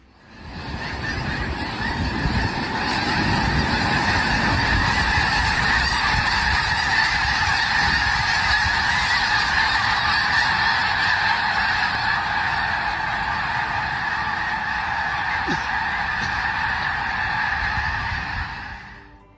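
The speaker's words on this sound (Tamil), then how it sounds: "இவ்வளவு பறவைகள் ஒரே நேரத்தில் ஒன்னா மேலெழும்பி பறக்கிறதை இதுக்கு முன்னாடி நீங்க நேரில் பார்த்துருக்கவே மாட்டீங்க" A large flock of geese rising together, a dense, continuous chorus of honking that swells in quickly and holds loud and steady throughout, with a low rumbling undertone of many wingbeats and no voices.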